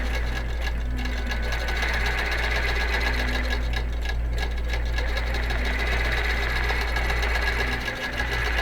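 A QBOT quilting robot driving a sewing machine as it stitches a design, a steady loud mechanical whir with a rapid repetitive stitching rhythm and faint periodic motor tones, running continuously without talking.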